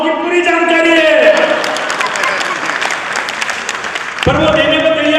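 An audience at a comedy poetry show breaks into sustained, dense applause, with a performer's voice heard at the start and again near the end.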